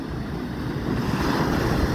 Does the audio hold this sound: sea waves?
yes